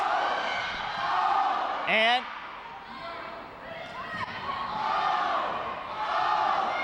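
Crowd at a high school volleyball game roars and cheers loudly throughout, a sustained wash of voices with a brief shrill whistle or shout standing out near the middle, and a word of talk over the din.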